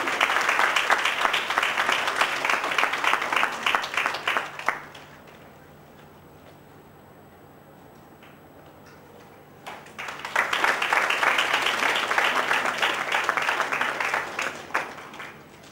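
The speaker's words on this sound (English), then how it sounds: "Please give a huge round of applause" An audience at a live technical biology session bursts into loud, sustained applause for about five seconds, falls quiet for a stretch, then breaks into a second full round of clapping.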